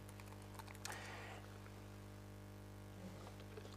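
Someone types a search on a computer keyboard: a quick, faint patter of key clicks near the one-second mark, then a few more light taps at about three seconds against a quiet background hum.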